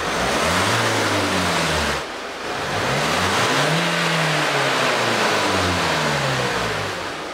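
A diesel car engine revs up loudly twice with a short dip between, close by near the tailpipe, then settles into a steady rumble with wavering pitch.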